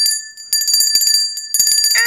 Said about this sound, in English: Gotta toll the bell